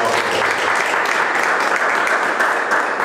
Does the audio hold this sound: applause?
yes